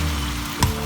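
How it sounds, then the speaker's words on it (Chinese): Seasoning sauce hits a hot wok of stir-fried Kung Pao chicken, giving a continuous sizzle that swells in a brief, sharper burst partway through. "然后把您调好的那个料汁儿倒进去。 翻炒片刻之后"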